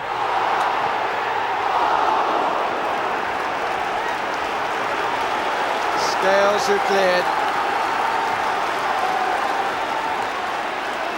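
Football stadium crowd roaring at an Everton match in the 1993-94 season at the start of the second half, a steady dense cheer with a commentator speaking over it and a short whistle-like tone midway.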